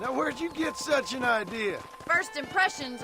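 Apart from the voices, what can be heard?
No everyday noise stands out behind the speech.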